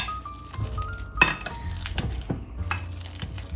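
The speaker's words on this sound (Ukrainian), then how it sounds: "І далі розтискаємо. Нам потрібно зробити пюре." Overripe bananas mashed to puree in a bowl for a vegan banana cake: uneven squelching presses and scrapes with occasional clinks of the utensil against the bowl, close and moderately loud.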